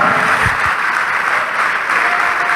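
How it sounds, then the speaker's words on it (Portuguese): A church congregation applauds during a worship program, steady dense clapping filling the room at moderate loudness with no voices over it. "vamos aplaudir ao Senhor Jesus por cada vida que está chegando"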